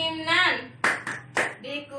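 A group claps the 'tepuk keinginan' rhythm in a classroom, giving three sharp claps in a row between bits of a voice that is speaking or chanting.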